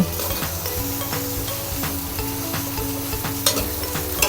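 Glass noodles stir-fried with pork, cabbage, carrot and wood ear mushrooms, a loud steady sizzle with repeated scraping strokes of a utensil against the pan, no voices.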